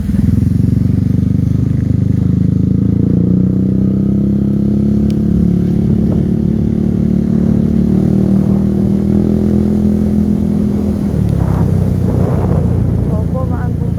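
A motorcycle rides through flooded streets in Malolos, Bulacan during a storm, its engine droning steadily and loudly with water churning and splashing, under continuous talk from a rider.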